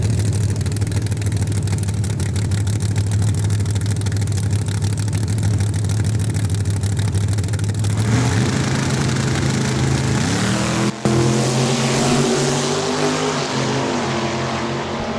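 A Pontiac Acadian and a 1966 Chevelle drag race at Saskatchewan International Raceway. Loud, sustained engine roar settles into rising, stacked engine tones as the cars pull hard down the strip, and no one speaks.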